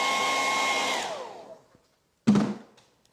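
A hair dryer blows steadily over freshly stenciled red paint, a loud airy whoosh whose whine slides down as it powers off, then a short second burst switches on and fades away.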